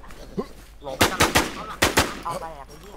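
Gunfire in the online survival shooter Infestation, heard as a quick burst of four or five loud, close shots and then a couple of fainter ones, with game noise and brief voices around them.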